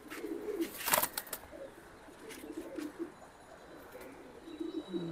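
Jabra pigeons in a cage give soft, low cooing phrases repeating through the whole stretch, with a few brief brighter bird calls and light rustles mixed in.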